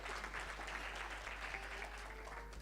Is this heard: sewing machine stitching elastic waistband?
no